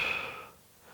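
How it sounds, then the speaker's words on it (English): A single deep belly breath taken during a neck mobility exercise: a soft, close airy exhale that fades away within a second, with no talking. "I want you to breathe into your belly for a few rounds"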